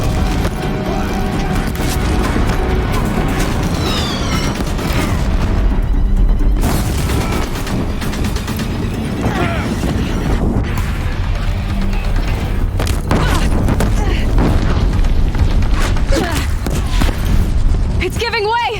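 Deathbringer war machines in Horizon Zero Dawn pound a bridge with heavy booms and splintering crashes, a dense continuous barrage under loud game voices and music.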